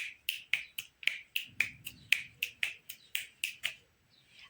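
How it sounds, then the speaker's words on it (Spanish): A run of about a dozen crisp finger snaps in a steady, fairly quick rhythm, close and clear with no voices, from someone showing the sounds the body can make. "generar chasquidos con nuestros deditos"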